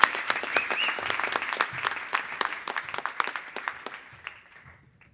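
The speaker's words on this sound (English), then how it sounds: "Please give them a round of applause." Audience applause fills the hall at a Bakersfield community awards show, a dense burst of clapping that gradually thins and fades out over about five seconds.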